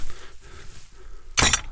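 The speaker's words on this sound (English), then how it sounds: "I bet this one makes a clink" A sharp clink rings out on a hiking trail as an object is struck, a single bright metallic or glassy hit near the end after quiet outdoor ambience.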